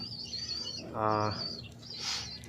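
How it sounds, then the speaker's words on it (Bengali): Pigeons kept in a loft for sale give a few soft calls close by, a brief coo in the middle and faint chirps around it, over quiet background. "এই হচ্ছে আমার কবুতর"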